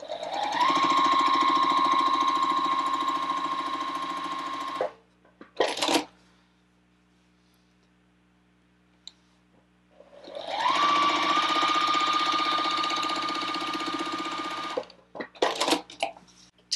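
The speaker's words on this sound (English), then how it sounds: "stitch a quarter inch away from the line on both sides while we have the right side of fabric E and fabric A together" A sewing machine stitches quilt fabric pieces together in two long, steady runs, separated by a quiet pause and a few brief handling noises.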